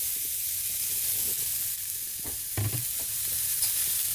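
Tomatoes added to softened ingredients frying in a pan in a tiny kitchen give a steady, close hissing sizzle throughout, with a few soft stirring scrapes and knocks partway through.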